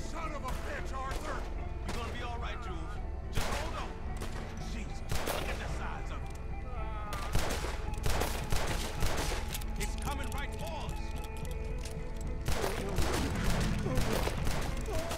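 Repeated gunfire in Red Dead Redemption 2 as a giant alligator is shot at, loud bursts cracking over a busy, dense game soundscape with voices talking throughout.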